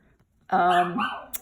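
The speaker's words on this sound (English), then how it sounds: "Sorry for the squeaking dog." A dog squeaks and whimpers close by in a short high-pitched whine that rises sharply after a moment of silence, followed by a quick yelp at the end.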